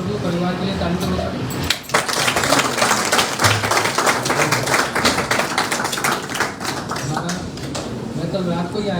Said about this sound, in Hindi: एक बार ब्रजभूषण प्रभु परिवार के लिए ताली बजाओ